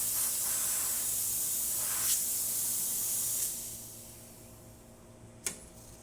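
A Rancilio Silvia Pro espresso machine's steam wand hisses steadily up close, then cuts off partway through, leaving a quieter background and a single sharp click near the end.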